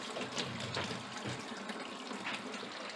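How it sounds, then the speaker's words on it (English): Cool tap water runs steadily over milk kefir grains being rinsed, a continuous close splashing stream with slight surges, no voices. "Now I'm going to rinse it. And I'm going to use just cool water, not hot."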